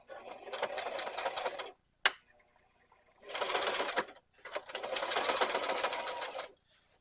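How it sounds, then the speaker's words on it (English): A sewing machine stitching fabric for an over-the-seat rifle carrier, running in three close, rapid whirring bursts separated by short pauses with a single click between the first two. "And then I'll stitch to the next dot."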